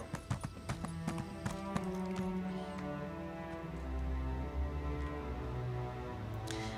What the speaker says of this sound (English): I hate riding horses in town.